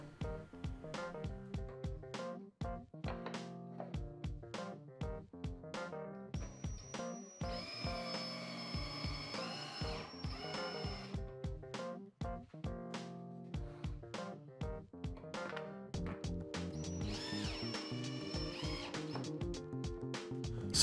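Power drill driving screws into a benchtop model airplane stand, with repeated short whirring bursts and a steady ticking rhythm, plus occasional higher-pitched spins, close but fairly quiet.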